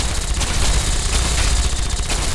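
Sustained gunfire from the video game Fallout 3, a dense, continuous rattle of rapid shots at steady loudness through the whole stretch, with no talk over it.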